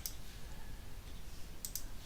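Computer mouse clicks in a business workflow software interface, a faint single click at the start and a quick double click near the end over a low steady hum.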